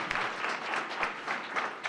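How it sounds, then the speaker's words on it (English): Audience applause rises at a finals event for an AI innovation challenge as the judges take a bow, a steady wash of many hands clapping at moderate distance with no voices over it. "everyone else give them a clap"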